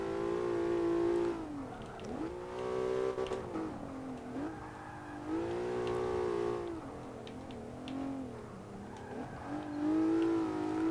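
A Mitsubishi GTO engine in Forza 5 on the Nurburgring drones and revs up and down with a strong harmonic tone while the car slides through corners, loud and continuous, with pitch rising and falling in waves.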